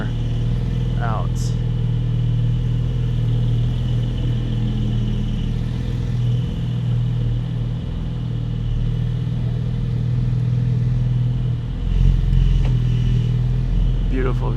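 A 2024 Porsche Boxster GTS 4.0 pulling away in manual mode, a steady, loud engine rumble heard from inside the car that holds level throughout, with a brief surge near the end.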